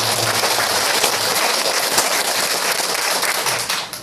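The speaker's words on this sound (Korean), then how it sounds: "박수로 환영해주십니다." A church congregation applauds in welcome of a new member, a dense, even wash of many hands clapping at once, loud and continuous before tapering slightly at the end.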